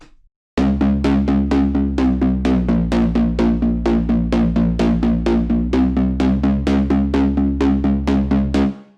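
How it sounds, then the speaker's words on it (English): Time to Rock, a synth pad preset made by Zenworld, pulses in a steady rapid rhythm of repeated chords over a deep sustained bass, loud and continuous after a short silent start, with no talking. "This first pad is called Time to Rock"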